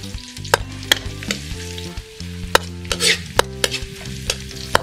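Ginger, onion and garlic sautéing in oil in a pan for beef dinuguan, a loud close sizzle broken by sharp stirring clacks and scrapes, with music playing underneath and no voices.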